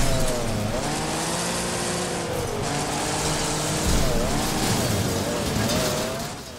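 Race cars in Wreckfest roar and grind through a chaotic demolition event, with a steady loud engine drone, shifting revs and squealing tires and no one talking.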